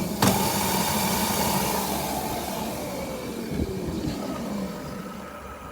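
Custom Razor pocket mod scooter riding fast, a steady buzzing motor whine with a gradually falling pitch, rushing wind and road noise, and a couple of sharp bumps partway through.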